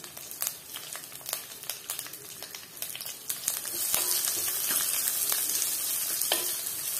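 Grated coconut, curry leaves and sliced onion fry in a pan with a crackling sizzle, many quick pops and stirring scrapes at first, then a dense, steady hiss.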